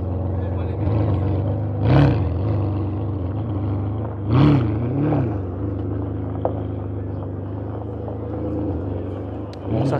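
A deep, powerful car engine rumbles steadily, surging twice in quick revs before settling back to a throaty idle.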